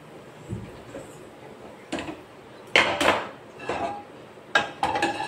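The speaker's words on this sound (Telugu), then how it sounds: "ఇప్పుడు నేను ఇది తీసేసి నాన్ స్టిక్ పెట్టుకుంటున్నాను" A few metallic clanks and knocks as a non-stick pan is set down on a stove, with quieter rattling between the louder hits.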